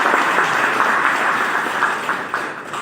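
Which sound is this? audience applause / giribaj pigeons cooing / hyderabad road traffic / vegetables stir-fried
audience applause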